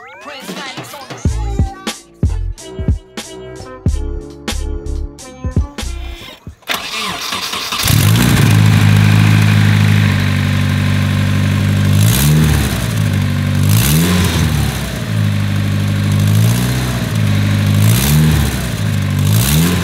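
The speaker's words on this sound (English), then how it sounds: "you guys can hear what this freaking nasty exhaust leak sounds like" A turbocharged Nissan 240SX engine with a bad exhaust leak and wastegate problems cranks several times, fires up, and idles roughly with a loud, raspy, ticking exhaust note and occasional revs.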